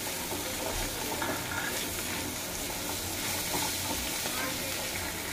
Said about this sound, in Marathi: आता आपण ह्याच्यामध्ये थोडंसं शेंगदाण्याचं कूट टाकूया, मिक्स करून घेऊया पूर्ण।